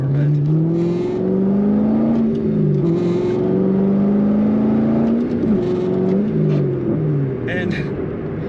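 A 2009 Chevrolet Corvette convertible with a 6-speed manual pulls hard through the gears, engine pitch climbing then dropping at each shift in a rising pattern, loud and close from inside the car, with a voice talking over it.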